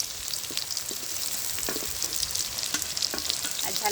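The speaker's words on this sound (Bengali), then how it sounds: "পেঁয়াজটা একটু ভেজে নিয়েছি এবার রসুন ওটা থেতো করে দিয়ে দেবো" Chopped onion frying with crushed garlic in a hot pan gives a steady, close sizzle with scattered sharp pops and spatters throughout.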